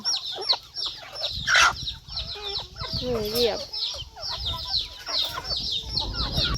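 Chickens and a rooster cluck in a Thai farmyard with ducks around, a run of busy clucks and squawks near the mic, mixed with someone talking throughout.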